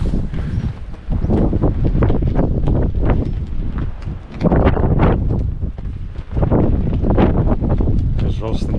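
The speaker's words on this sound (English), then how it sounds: "It's going to be very windy up here." Strong wind at a hilltop lookout on Hvar Island buffets the microphone in steady, heavy gusts that roar through the whole stretch, with surging low rumble and no clear speech.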